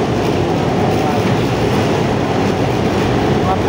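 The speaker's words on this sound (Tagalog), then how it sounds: "Maingay po tayo rito kasi malapit po tayo sa LRT." Light rail train rumbling steadily close by an outdoor Japan surplus shop, a loud, continuous rolling roar with no distinct break over the whole stretch.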